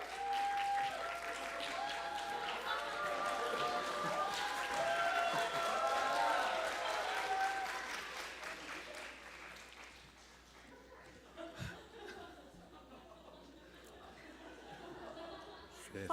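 An audience at a Korean church Sunday service bursts into sustained applause for several seconds, then it fades into scattered clapping, chatter and light laughter in a large hall.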